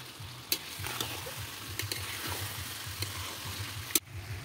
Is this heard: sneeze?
no